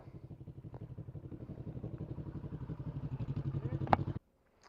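A Kawasaki ER6 motorcycle engine thrums in a rapid, even pulse that grows steadily louder as it draws near, then cuts off abruptly.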